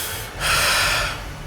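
A single loud, ragged gasp for air after surfacing from the sea, breathy and sharp, drawn in quickly and then fading into heavy breathing.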